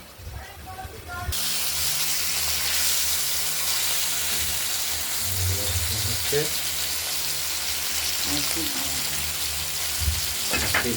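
Rohu fish pieces fry in hot oil with a loud, steady sizzle that starts abruptly after a quieter moment and continues close up, with faint voice in the background.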